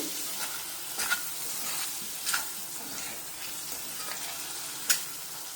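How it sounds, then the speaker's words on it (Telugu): Chopped tomatoes frying in a pan after onions for a ridge gourd and prawn curry, a soft continuous sizzle with a few sharp spoon taps and scrapes, fairly quiet and without speech. "రెండు టమాటాలు కట్ చేసి వేసుకుంటున్నాము టమాటాలు కూడా మధ్య వరకు ఫ్రై చేసుకోవాలి"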